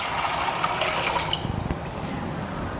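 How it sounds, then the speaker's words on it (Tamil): Water is poured into a bowl for boiling pasta shells, a steady splashing stream that breaks into short gurgles partway through and then settles again, close by with no talking. "போட்டு நம்ம அதில் தண்ணி வேணுங்கிற அளவு ஊற்றி வச்சுக்கலாங்க."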